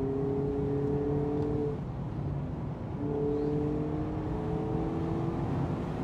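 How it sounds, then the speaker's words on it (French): Mazda MX-5 convertible engine held at high revs, beyond 7000 rpm, as a steady loud drone with sustained harmonic tones that dip briefly midway and then climb again, no talking. "c'est une voiture qu'on peut monter dans les tours, hein, à plus de 7000 tours"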